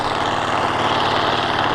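A restored Allis Chalmers 440 tractor engine runs loud and close, a steady rumbling drone that holds even for the whole stretch with no talk.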